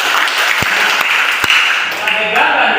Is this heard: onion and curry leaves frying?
no